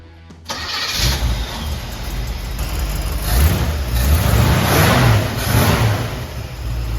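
A 1955 Chevy with a big cam cranks and catches after a brief quiet moment, then roars loudly with several rising and falling revs before settling into a steady rumble.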